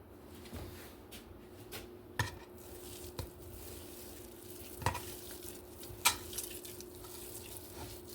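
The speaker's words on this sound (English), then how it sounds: "You allow the ground beef to cook first." Ground beef fries in a pan with a faint, steady sizzle. Occasional sharp scrapes and knocks of a utensil stirring the meat come through, close but quiet.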